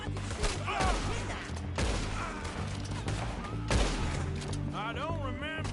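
Gunshots in the video game Red Dead Redemption 2, a few sharp loud cracks spread over several seconds amid dense background game noise and characters' voices.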